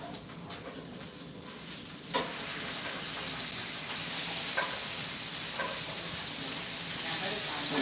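Bacon frying in its own grease, a steady close sizzle and hiss that grows louder and fuller partway through, with occasional pops and scrapes.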